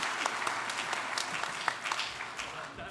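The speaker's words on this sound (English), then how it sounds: "Let's applaud for Mike" Audience at a woodturners' association honorary lifetime membership event applauding for an honoree, with sustained dense clapping and a few sharper individual claps standing out, tailing off slightly at the end.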